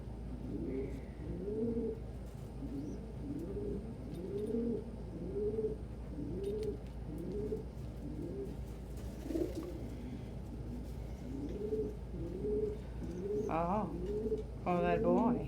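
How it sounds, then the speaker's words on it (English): Pet birds perched on a person's shoulders coo softly in a steady repeated rhythm, close by, with a few brighter chirps near the end and faint room noise beneath. "There's room for a bird on each shoulder."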